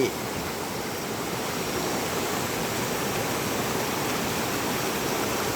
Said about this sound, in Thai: ทริปพามาเที่ยว น้ำตกวังตะไคร้